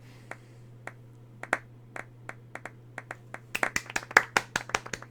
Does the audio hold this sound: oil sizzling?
no